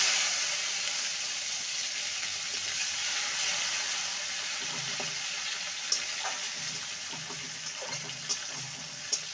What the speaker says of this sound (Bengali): টমেটোটাকে ভালো মতন ভেজে নেব।